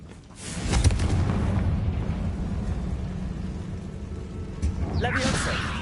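A Confringo blasting spell explodes in the Hogwarts Legacy video game, starting with a sudden heavy boom that settles into a long rumbling roar, followed by a brief crackle of effects near the end.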